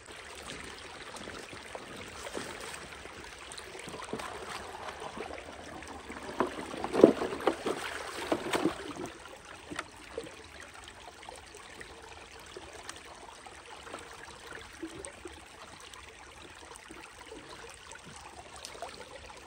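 Water runs steadily through a Bigfoot sluice by Dreammat, its mat held in place by the water's weight and pressure, a soft continuous wash with a brief louder surge of splashing midway.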